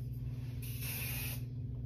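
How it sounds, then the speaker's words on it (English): Hairspray hisses from an aerosol can onto styled hair in one short, continuous burst of about a second, close and fairly soft against a low background hum. "so then you would want to spray a little bit,"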